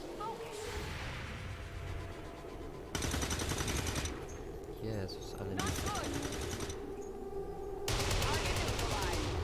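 Bursts of rapid automatic gunfire from XCOM 2: War of the Chosen come in several loud volleys, with a person speaking briefly between them.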